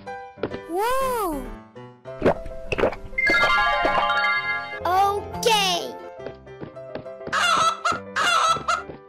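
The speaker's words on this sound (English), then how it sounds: "Chicken." A cartoon chicken squawks and clucks in short bursts within a bright children's animal animation, mixed with playful jingles, splashy effects and a voice.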